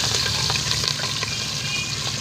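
Food sautéing in a hot pan gives a steady, close sizzle with soft scrapes and taps from stirring running under it, and no voices.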